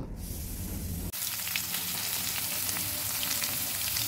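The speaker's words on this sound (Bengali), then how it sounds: "এদিকে আমি কড়াইতে তেল দিয়ে একটা আলুকে এরকম ডুমো ডুমো করে কেটে সুন্দর করে ধুয়ে ভাজতে বসিয়েছি।" Diced, washed potatoes fry in oil in a kadai with a steady crackling sizzle and scattered pops, after a short burst of a different noise at the very start.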